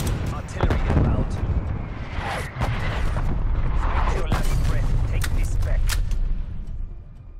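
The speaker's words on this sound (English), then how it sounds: "Artillery inbound." Incoming artillery strike in Call of Duty: Black Ops Cold War: repeated heavy booms and explosive impacts roll on continuously, loud and dense, with battle noise and voices layered underneath.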